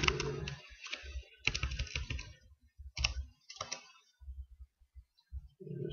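Typing on a computer keyboard while working on a Linux virtual machine, quick bursts of close clicking keystrokes separated by brief pauses.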